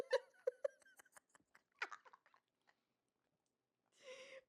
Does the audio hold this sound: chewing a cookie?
yes